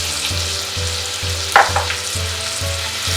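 Grated carrot fries in hot oil in a pressure cooker for pulao, a steady close sizzle with regular scraping stir strokes and one sharper clatter midway.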